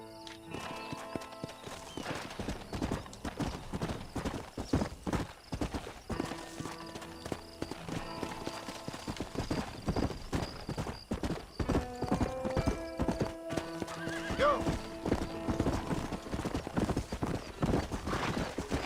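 Horse hooves clip-clop steadily on the ground in the video game Red Dead Redemption, a continuous galloping rhythm that runs the whole time, with faint game sounds beneath it.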